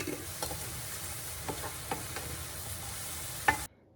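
Chopped onions and mushrooms sauté in a pan with a soft continuous sizzle, broken by several light scrapes and taps of a utensil stirring, then the sound cuts off abruptly.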